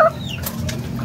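An F1 hen clucking close by on a farm, with a short, bright cluck at the start followed by low, steady farmyard murmur.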